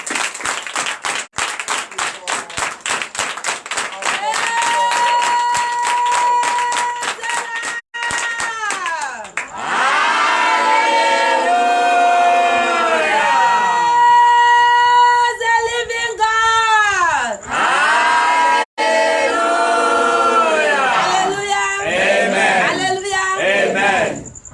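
Church congregation at a night deliverance service cheering, whooping and clapping loudly, rhythmic hand claps at first giving way to waves of shouting and ululating voices, with brief drops between surges.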